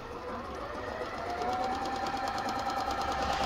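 A Singer Fitlyn 6700 sewing machine stitches a simple straight seam, its steady rapid needle hum running close and continuous for the whole stretch with no one talking.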